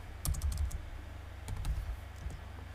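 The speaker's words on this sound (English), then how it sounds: "We'll type in test photo." Typing on a computer keyboard comes as two quick, faint bursts of close clicking keystrokes separated by a short pause, with no talking.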